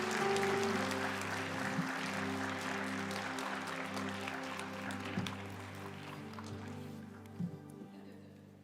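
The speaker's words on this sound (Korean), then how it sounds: "우리 큰 박수로 좀 격려해 주시겠습니다" A church congregation claps together in sustained, dense applause that carries through the room for several seconds before tapering off, with some murmuring underneath.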